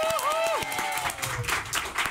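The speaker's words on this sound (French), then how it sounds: "Oh, applaudissements." A studio audience breaks into applause for Vendée Globe winner Armel Le Cléac'h, a brief burst of clapping and crowd noise beneath a host talking over it.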